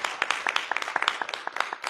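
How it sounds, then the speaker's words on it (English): An audience at a township supervisor candidate forum in Harvey, Illinois, claps for the candidates: a modest, fairly sparse round of applause with individual claps standing out, moderately close and fairly quiet. "let's give each one of our candidates a wonderful round of applause"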